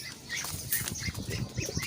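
A brief flurry of pigeon wings flapping close by while the bird is caught by hand, a soft fluttering rush lasting a couple of seconds.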